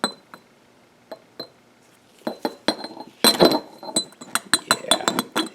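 Glass clinks and taps in a cartridge-forming workshop, a few sparse light knocks at first, then a busier run of sharp clinks and rattles near the microphone, with no talking.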